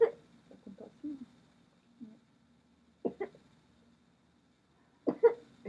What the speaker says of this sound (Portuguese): está com tosse?